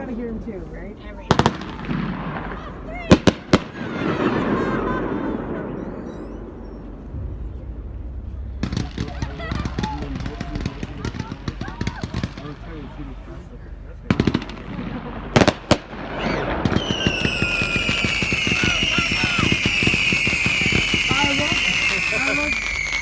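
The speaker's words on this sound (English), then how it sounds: "They are fireworks." Fireworks over a cruise ship at night crackle and pop in bursts and rapid volleys, with people talking throughout and a high whining tone toward the end.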